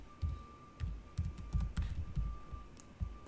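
Computer keyboard typing in a quiet room, a steady run of soft, dull keystrokes arriving in small bursts at an even pace, close to the listener, with a faint constant hum in the background.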